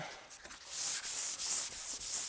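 Sanding block rubbed over primer on a repaired car body dent, smoothing out orange peel: steady rhythmic back-and-forth scraping strokes, close and fairly loud, with no talking.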